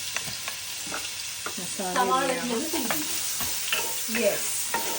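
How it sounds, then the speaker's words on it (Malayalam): Chopped onions hit a hot pan with a loud, close sizzle and repeated stirring scrapes, while a voice talks briefly over the frying. "അമ്മ ആദ്യമായിട്ട് അരിഞ്ഞു വെച്ചിരിക്കുന്ന സവാള ഇടുകയാണ്"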